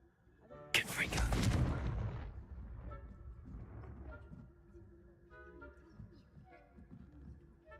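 A Confringo fire spell exploding in the video game Hogwarts Legacy, one loud close burst that roars for about a second and fades into a low rumbling tail with faint game ambience.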